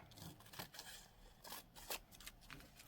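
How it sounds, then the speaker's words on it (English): Scissors snip through paper in a handful of quick, quiet cuts spread irregularly over a few seconds, close by and fairly soft. "I'll use the scissors."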